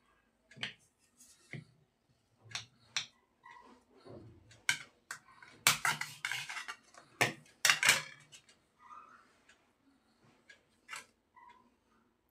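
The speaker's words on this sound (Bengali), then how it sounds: "আমি এই সোপটাকে ছোট ছোট টুকরো করে কেটে নেব" A knife cuts a bar of Pears soap into small pieces, giving a series of sharp, distinct clicks and taps on a board at an irregular pace, close and alone in an otherwise quiet room.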